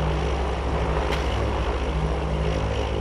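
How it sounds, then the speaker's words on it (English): Propeller aircraft flying overhead in Farming Simulator 22 on a PS5 mod map, a steady droning engine hum with broad noise that fills the whole stretch, moderately loud and without talk. "Here comes the plane again."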